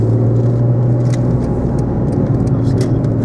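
A 2002 Renault Clio V6 engine drones loudly and steadily from inside the moving car, a deep continuous rumble with a thin layer of road and cabin noise.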